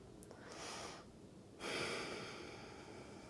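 Slow, audible breaths during a beginner hatha yoga session: a soft inhale, a pause, then a louder, longer exhale through the nose, close and alone.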